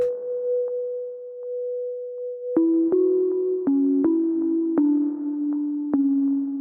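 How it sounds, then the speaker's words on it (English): A clean, bell-like synth pluck plays a short stepping lo-fi melody after a sustained tone, each note ringing out with a quick echo and a reverb tail. "We've got this little pluck melody here."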